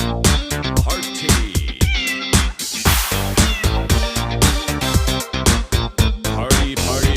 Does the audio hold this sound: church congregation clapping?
no